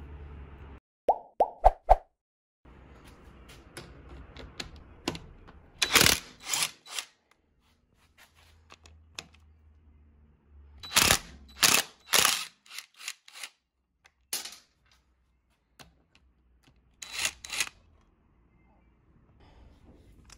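Bolts being undone on an enduro motorcycle frame while removing the rear section: scattered close metallic clicks, clunks and ratchet-like bursts in irregular clusters, with quiet low rumble between them.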